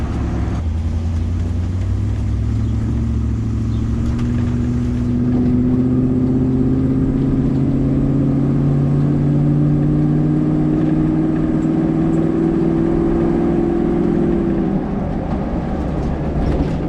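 A 1994 Land Rover Defender 90 NAS engine runs steadily for the whole stretch, a loud, deep, continuous drone whose pitch rises slowly as revs build, close by and with no talking over it.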